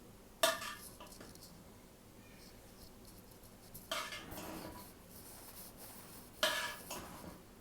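Cooked chicken biryani rice stirred in a pot after steaming, with a few separate metallic scrapes and clanks of a spoon against the pot spaced seconds apart amid quiet, no talking.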